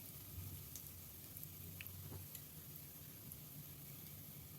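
Cumin seeds and a pinch of asafoetida sizzle in hot oil while aloo matar sandwich filling is being made, a faint, steady hiss with no talking.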